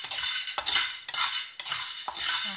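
A spoon stirs glutinous rice and mung beans in a pot, making repeated rhythmic scraping strokes against the metal, close and fairly loud, with no talking.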